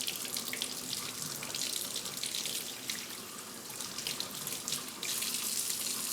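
Hot tap water pours steadily from a faucet into a sink for hand washing, a continuous close hiss and splash with small surges and no talk.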